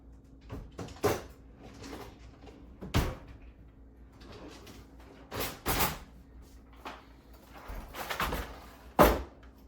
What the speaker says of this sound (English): I'm gonna get this drawer back, and then I'm gonna be pulling out the silverware drawer